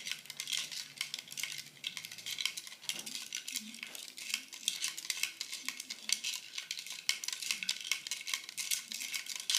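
Two ice cubes, a big and a small seashell and salt stirred together in a container make a faint, continuous rattle of light clicks and scrapes, close by and without talk.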